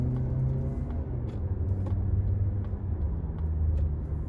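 A 2021 Mazda CX-30 2.5 S Premium with a 2.5-liter engine accelerates from low speed, its steady low drone rising in pitch from inside the cabin, loud and continuous.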